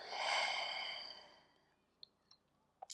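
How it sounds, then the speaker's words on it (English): A long, breathy exhale from a person doing yoga, loud and close at first, then fading over about a second and a half, followed by a few faint clicks. "And exhale."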